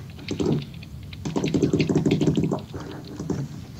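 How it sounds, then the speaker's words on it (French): Close, rapid keyboard typing comes in short bursts of clicking keys, pausing briefly between runs, with no one speaking. "Le bruit de ton clavier."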